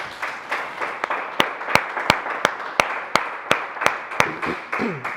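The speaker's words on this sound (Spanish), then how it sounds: "Dale un fuerte aplauso a nuestro Señor Jesús." Congregation applauding in church, a crowd's clapping falling into a steady rhythmic beat of sharp, regular claps over a broad wash of applause, with a faint voice near the end.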